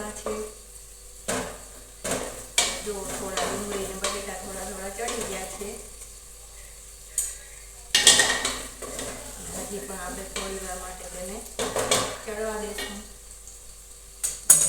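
Potatoes frying in oil in a pan for kanda-poha-style potato dish, a steady sizzle with repeated clinks and scrapes of a spatula stirring against the metal pan, close and fairly loud, no talking.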